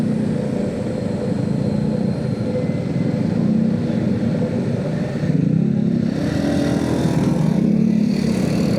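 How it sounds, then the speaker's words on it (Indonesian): Motorcycle engine droning steadily while riding through congested traffic on the Medan–Berastagi road, a loud continuous low rumble with shifting tone, no voices. "Karena kita naik motor."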